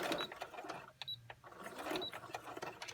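A sewing machine stitches a quilt block, a rapid mechanical whirring in short runs that pauses briefly midway before starting up again, close and moderately quiet.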